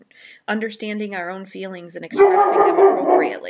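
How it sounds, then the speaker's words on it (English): A pet dog barks and yips several times, close and fairly loud, right after someone speaking calmly indoors; the barks come in a short burst and overlap the end of her sentence. "Sorry about my dog barking there,"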